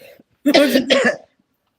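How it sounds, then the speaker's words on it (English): Two quick, harsh coughs close up, one right after the other, then silence. "Hopefully with a little less coughing."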